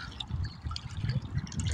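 Water of the Hudson River flows and trickles over rocks nearby, a steady low splashing murmur that swells and eases without pause and carries no speech.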